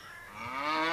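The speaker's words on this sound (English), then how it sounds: "Moo, moo, says the cow" A cow moos once, a short rising call heard up close and clear with nothing else around it, growing louder toward the end.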